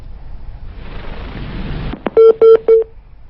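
On a phone-in health advice programme, a caller's line drops: a stretch of faint line hiss gives way to a sharp click and then three short, evenly spaced telephone tones.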